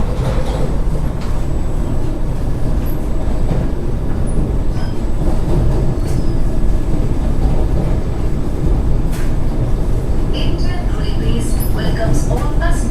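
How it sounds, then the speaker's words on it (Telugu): A Vande Bharat Express train runs at speed between Secunderabad and Tirupati, a loud continuous rushing roar with steady rail rumble, heard from inside the train. "మిర్యాలగూడ నుంచి కొంచెం ఫ్రంట్ లాగా అప్పుడే వచ్చేసి మనకు 110 స్పీడ్ అయితే అందుకుంది మన ట్రైన్."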